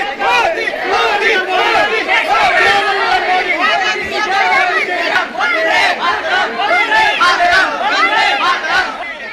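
A large crowd in Papua gathered to greet Prime Minister Modi, a dense, loud roar of many voices shouting and chattering at once, sustained without a break throughout.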